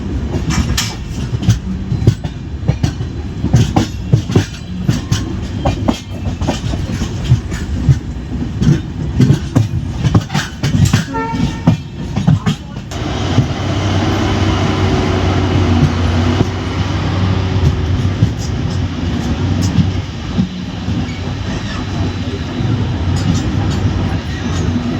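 The Humsafar Express runs on rails from Ahmedabad to Chennai, a loud steady rumble with clattering wheel beats, heard from on board, busier rattling early on, then a smoother roar.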